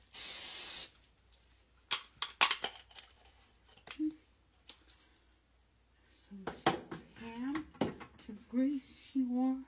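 Cooking spray hisses loudly onto a pan in one burst of about a second, followed by clinks of kitchenware and a voice talking.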